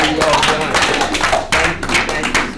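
Audience clapping at a Kwanzaa celebration, scattered sharp claps of hands mixed with voices and crowd noise nearby.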